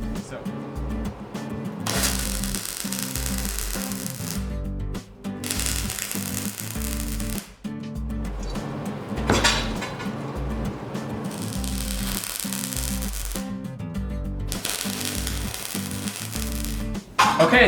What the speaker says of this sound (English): I just finished up welding all of the bolt heads onto our flat bar